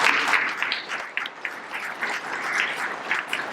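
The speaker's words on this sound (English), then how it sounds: "Ladies and gentlemen, can I ask you to give Dr. Ballard a round of applause?" An audience at Titanic Belfast gives Dr. Robert Ballard a round of applause, a full, sustained burst of many hands clapping that swells slightly and holds steady throughout, with no talking.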